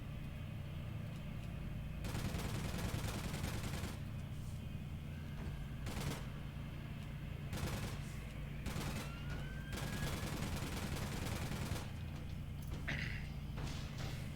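Gunfire in a tournament video game match: a sustained rattle of rapid shots and bursts runs across the whole stretch over steady broadband game noise, with a couple of louder bursts standing out.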